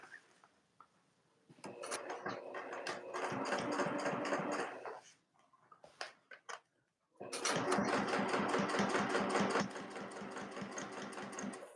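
A sewing machine stitches the two sides of a tote bag together in two long runs of rapid mechanical whirring and clattering, with a short quiet gap of a few clicks between them, close up and with no talking.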